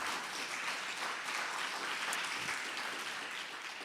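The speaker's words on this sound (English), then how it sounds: "that's worthy of applause" An audience at a public talk in a community center on a farm breaks into applause, a dense, steady wash of clapping that holds evenly for several seconds.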